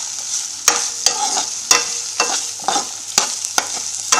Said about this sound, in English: Just saute it for a minute